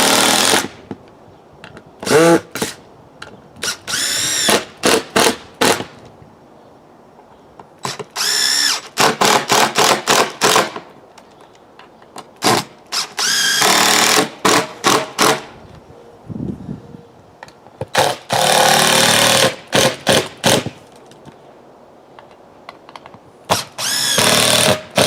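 Power drill driving screws into a replacement deck board, heard as repeated loud bursts of whirring, each a second or two long, separated by short pauses, close by with no talking.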